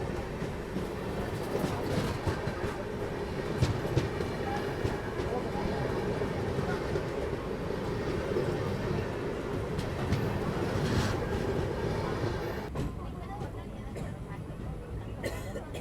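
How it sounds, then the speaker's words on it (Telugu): The Siddheshwar Express, running from Mumbai to Bengaluru, passes with a sustained loud rumble and rhythmic wheel clatter, and voices chatter faintly underneath. "సిద్ధేశ్వర ఎక్స్ప్రెస్ ముంబై నుండి బెంగళూరు వెళ్ళే సిద్ధేశ్వర ఎక్స్ప్రెస్."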